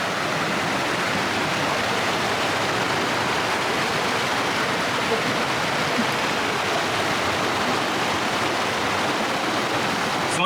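A clear creek flows steadily at an off-grid site, a dense continuous rushing wash of water heard up close with no pauses.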